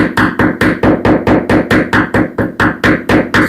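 Hammer strikes a flat Phillips screwdriver against ceramic tile to chip a starting mark for a drill bit, about fifteen sharp, evenly spaced metallic taps in steady rhythm, close and loud with no talking.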